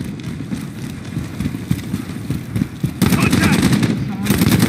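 Call of Duty Modern Warfare gunfire cracks in a rapid string of sharp shots over dense game noise, growing heavier near the end.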